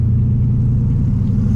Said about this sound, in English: when you get into the throttle and the hesitation goes away